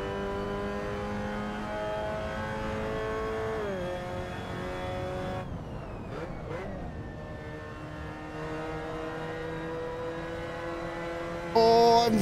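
A Mazda MX-5 engine in Assetto Corsa on the Nürburgring GT circuit drones steadily and loud as it climbs through the revs, dipping at gear changes before building again.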